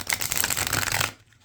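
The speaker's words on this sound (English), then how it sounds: "So let's do one more shuffle because I'm going to do a reading with this in just a moment." A tarot card deck is riffled in one quick, crisp shuffle that lasts about a second, close and clear, then stops abruptly.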